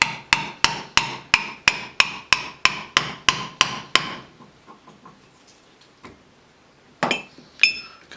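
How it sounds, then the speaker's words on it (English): A hammer taps a sealed ball bearing into a trailer wheel hub through an old bearing and flat plate, about a dozen sharp metallic strikes in quick, even rhythm, then quiet with a few light clinks and two final knocks. "We're going to use our old bearing to make it easier to push the new one in, then a flat surface on top of it, and it should tap in very easily."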